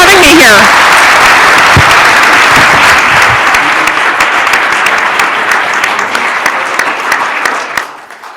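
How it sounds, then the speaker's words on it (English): An audience gives a loud, sustained round of applause for a premier at a Canada–Mexico summit. Dense clapping carries on steadily with voices underneath, then tapers off and stops near the end. "Let's give a big applause to our Premier here"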